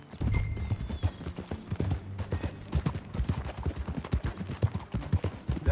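Horse hooves clip-clop at a lively trot in Red Dead Redemption 2, a close, rhythmic run of hoof beats on firm ground with faint game ambience behind and no speech.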